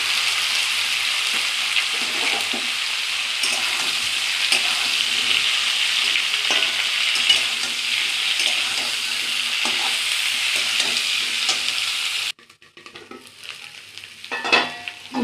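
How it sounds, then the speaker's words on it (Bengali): Potato and cauliflower frying in oil with turmeric, a loud continuous sizzle marked by repeated stirring scrapes. The frying cuts off abruptly near the end, leaving quieter clattering handling sounds. "তেলের মধ্যে আলু ফুলকপিটা ভেজে নেব একটু হলুদ দিয়ে দিলাম"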